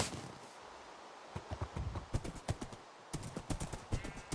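A horse walking in Minecraft, its hooves clip-clopping in a rapid steady rhythm that starts partway through and continues to the end, close and clear with no talk.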